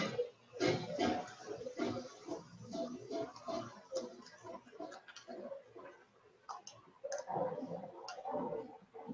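Scissors cut craft paper for a ladybug or penguin puppet in a kids' craft class, giving faint, irregular clicking snips in short clusters with gaps between them.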